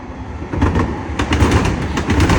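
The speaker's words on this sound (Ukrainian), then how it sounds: "фотографувати вам поїзда, електричного поїзда, який нас називали електричкою" An electric commuter train rolls past close by, a steady loud rumble with repeated rhythmic clacks of wheels over rail joints and no voices.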